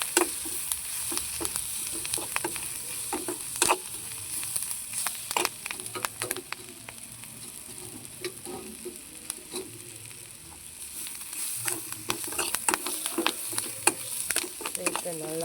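Drumstick leaves stirred and sautéed with onions and green chillies in a pan, a constant sizzle under frequent clattering scrapes and taps of the spoon, close and uneven in rhythm, with no voices.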